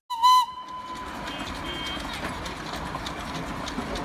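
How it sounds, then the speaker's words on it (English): A train whistle gives one short, loud, bright blast at the start, then fades into a steady rumbling, rolling noise of the moving train that lasts to the end. "T for train."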